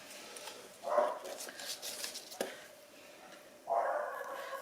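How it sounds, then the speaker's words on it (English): Dogs next door and in a house bark indoors, two distinct bark bursts about three seconds apart, moderately loud against a quiet room with faint background noise. "Oh, I do apologise about the dogs barking."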